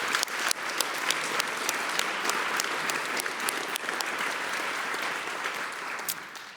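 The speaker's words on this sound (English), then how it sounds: "So maybe once more a good applause for his and his colleagues' efforts." A conference hall audience at a global media freedom event applauds in a dense, sustained wash of clapping, with a few sharper individual claps standing out near the front, steady from start to finish with no voices.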